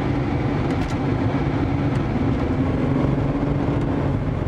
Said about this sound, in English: And now I'll take her for a good old test drive